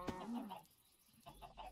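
Minecraft chickens cluck in a few short bursts, with a brief gap of quiet between them and faint game background.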